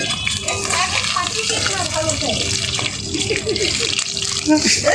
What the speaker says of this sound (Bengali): আকাশে মেঘ করেছে বন্ধুরা, বৃষ্টি পড়ছে